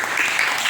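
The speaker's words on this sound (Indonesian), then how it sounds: "tepuk tangan untuk kelompok 2" A classroom of students clapping for a student group, a brief burst of steady, dense applause without a pause.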